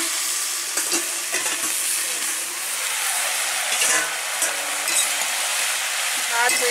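Food fries in a pan with a loud, continuous sizzle while a spatula stirs it, scraping and tapping now and then, close up and steady throughout.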